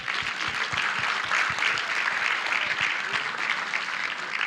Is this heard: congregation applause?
yes